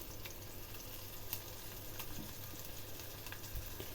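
Garlic frying in hot oil for a dhaba-style paneer and peas curry makes a faint, steady low sizzle with scattered soft crackles, quiet and without talk.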